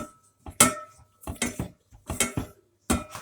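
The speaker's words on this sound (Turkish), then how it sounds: "Şöyle karıştıralım, karıştıralım." A utensil stirs flour in a metal pot, giving about half a dozen close, clinking scrapes in an uneven rhythm with short pauses between them.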